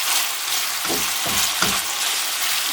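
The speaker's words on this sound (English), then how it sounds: "Just browning off my mince." Mince browns in a hot frying pan for a chilli base, a loud, steady close sizzle with a few soft scraping stirs of a utensil and no voices.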